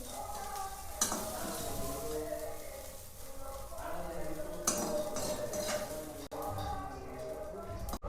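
Dried fish frying in a pan, a steady close sizzle with occasional stirring scrapes and utensil clinks against the pan, continuing throughout.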